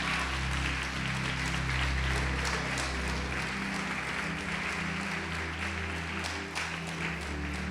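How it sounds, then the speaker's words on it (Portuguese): A church congregation applauds during a sermon on a new covenant, with steady clapping over a sustained low organ or keyboard drone that continues throughout. "Quem crê pode aplaudir o Senhor e glorificá-lo"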